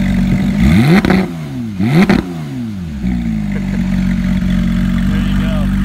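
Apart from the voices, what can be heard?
2015 Porsche 911 GT3 engine revving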